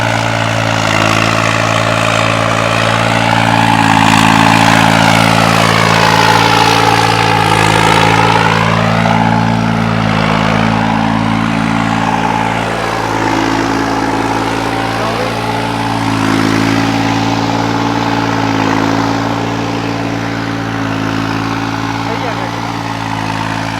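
A modified New Holland tractor engine idles loud and close, a steady low throbbing drone with strong rumbling tones that holds for the whole stretch while people talk nearby.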